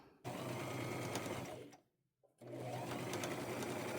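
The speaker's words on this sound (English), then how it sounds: "with a straight stitch sew that on" A sewing machine runs a straight stitch in two bursts of fast, steady mechanical whirring, close and clear, with a brief pause between them.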